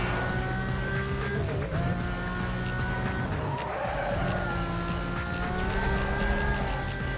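A Lamborghini Gallardo races in the video game Need for Speed Most Wanted. Its engine roars continuously and loudly, with rising and falling pitch as it accelerates, and tires squeal and skid throughout.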